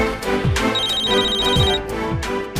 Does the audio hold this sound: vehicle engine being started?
no